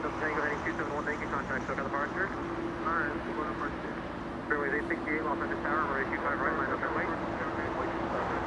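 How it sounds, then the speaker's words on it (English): A China Cargo Airlines freighter touching down on runway 25 left at Los Angeles International Airport, its low, steady engine hum running beneath someone talking. "China Cargo Airlines, this is going to be our first freighter touching down on 25 left"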